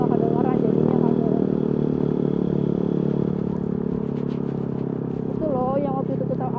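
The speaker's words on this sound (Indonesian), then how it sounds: "Ya itu ada motor nggak kedengeran jadinya kamu." A motorcycle engine drones steadily nearby throughout on a mountain road, its pitch shifting slightly, with voices talking over it.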